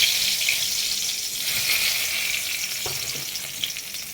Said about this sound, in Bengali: সর্ষের তেল দিয়ে দিলাম দিয়ে এদিকে ফোড়নটা দিয়ে দিচ্ছি গোলমরিচ এলাচ দারচিনি লবঙ্গ